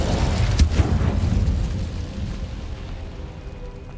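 Incendio fire spell in Hogwarts Legacy, a loud rumbling whoosh of flame with a sharp crack early on, then a steady roaring burn slowly fading over a few seconds.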